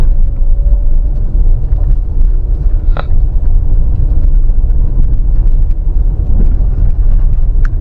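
Honda CR-V Black Edition, a front-wheel-drive SUV, pulls up a steep incline in first gear, its engine a steady loud low rumble under strain with no voices throughout.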